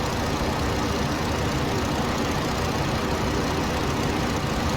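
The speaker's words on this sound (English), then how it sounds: "I'm actually going to have to reduce the engine slightly because we're going too fast." Biplane engine in the flight game Rise of Flight, a dense, steady, loud droning roar with a constant rumble that holds without change throughout.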